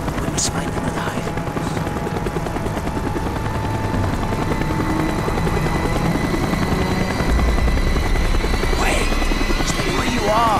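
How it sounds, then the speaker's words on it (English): A helicopter circling in the Call of Duty: Black Ops video game makes a loud, continuous rotor thrum and engine drone throughout, with game sounds layered over it. "The chopper is coming around again."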